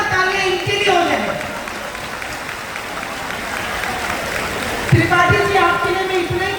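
A large crowd at a Hindu nationalist political rally in India claps loudly and steadily for a landowner, with the applause holding throughout and swelling again near the end, under music and a loud public-address voice.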